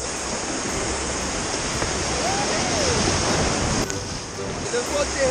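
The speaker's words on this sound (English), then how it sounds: "This rapid coming up, we're gonna try and paddle all the way through it." Rushing whitewater from river rapids while rafting in Rotorua, New Zealand, a loud, steady broadband roar of churning water filling the whole clip, with wind buffeting the microphone.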